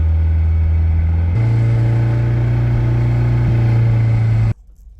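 Toyota MR2 Spyder engine revving at different RPMs from the engine bay, a steady loud drone that jumps to a higher held pitch, holds, then cuts off abruptly into quiet.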